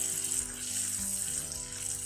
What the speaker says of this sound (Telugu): అవి బటర్ వేసుకొని రోస్ట్ చేసుకోండి